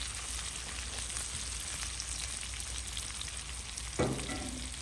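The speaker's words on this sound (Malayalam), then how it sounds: "നമ്മുടെ ജിഞ്ചർ, ഗാർലിക്, പച്ചമുളക് എല്ലാം ഒന്ന് ചെറുതായിട്ട് ചൂടായി" Ginger, garlic and green chili frying in a pan for a Kerala fish molly, a soft continuous sizzle with a sharp clack of utensil against the pan near the end, close and fairly quiet, no voices.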